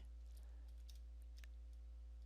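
Typing on the keyboard of a Lenovo IdeaPad Slim 3 laptop, a few faint, sparse key clicks under a constant low electrical hum, no voices.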